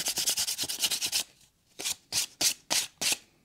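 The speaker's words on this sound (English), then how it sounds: "It will take very little time to sand them off." Hand sanding of the faint parting lines on a cast resin sculpture: close, quick scratchy rubbing strokes in a fast run, then a brief pause, then five slower separate strokes, with no voices.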